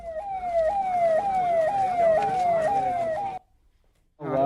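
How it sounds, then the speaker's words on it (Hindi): An ambulance siren at a road accident scene wails loud and close in a rapid rising-and-falling sweep for about three seconds, cuts off abruptly to near silence, then a voice begins at the end. "हादसे के बाद में जब एम्बुलेंस मौके पर पहुंची"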